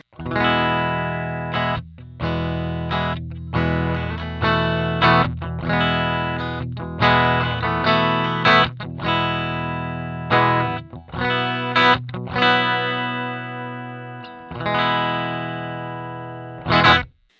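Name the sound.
electric guitar through clean combo amplifier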